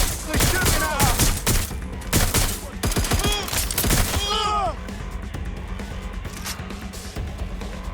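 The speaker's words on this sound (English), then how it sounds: "They're shooting at us." Rapid bursts of gunfire in the video game Watch Dogs Legion, sharp cracks and volleys packed into the first half, then easing into sparser shots, with game voices talking over the shooting.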